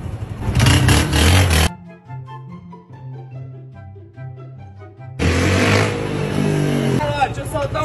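A motorcycle engine revs loudly in two strong bursts at the start and end, with a quieter idling stretch in between, close by and alongside speech.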